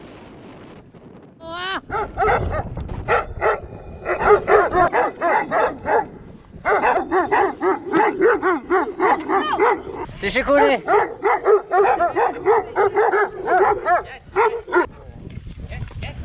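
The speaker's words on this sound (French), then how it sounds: "faire connaissance avec le Kangal, ou berger d'Anatolie, qui est un chien utilisé pour la protection des bêtes, mais aussi des maisons des locaux" Kangal (Anatolian shepherd) guard dogs in rural Turkey bark loudly and repeatedly in close, rapid bursts, with brief yips and whimpers, while a person speaks briefly.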